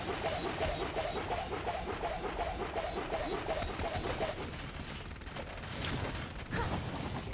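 Weapon fire in the shooter game Gunfire Reborn: rapid, evenly spaced shots rattle for several seconds, then give way to quieter scattered game effects.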